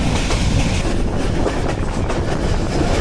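The Tista Express runs along the rails, heard from on board as a loud, continuous rumble with a steady rattle and clickety-clack of wheels, with no voices.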